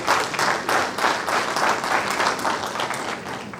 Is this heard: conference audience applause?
yes